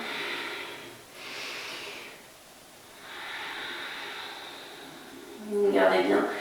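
Slow, deep breathing in a downward dog yoga pose, with long airy inhales and exhales heard close up and a voice talking softly near the end.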